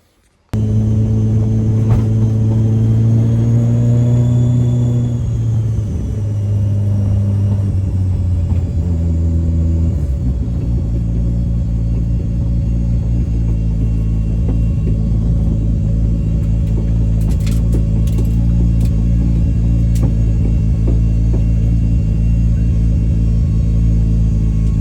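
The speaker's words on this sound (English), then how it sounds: "what I'm going to do now is take it for a little drive down the road" A Mazda 323 fitted with a 13B turbo rotary engine drives down the road, its loud, steady engine drone starting abruptly and shifting pitch as it moves off, with no talking.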